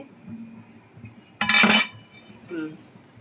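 A metal pot lid lifted off a cooking pot, a single sharp clinking rattle that rings briefly, set against quiet kitchen background with a faint voice before and after.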